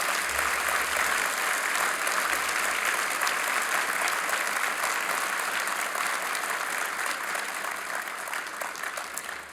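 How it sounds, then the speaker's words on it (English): A large audience at the World Food Prize claps steadily for educators and students, a dense, sustained round of applause filling the hall that tapers off slightly at the end. "Let's take a moment to give them a well-deserved round of applause."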